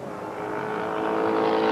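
A race car engine at Mesa Marin Speedway roars loud and close, building steadily in volume as the car passes by.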